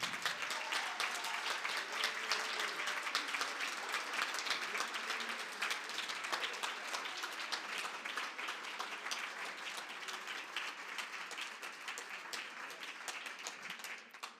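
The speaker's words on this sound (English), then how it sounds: "So let's also take a moment to applaud them." A conference audience at the 70th anniversary of the Asia-Africa Conference in Bandung applauds, sustained dense clapping from a large hall that holds steady for over ten seconds and tapers slightly at the end.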